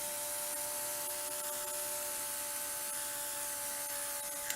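Airbrush spraying paint in a still life painting session, a steady continuous hiss of air and paint running throughout with no pauses, close and even in level.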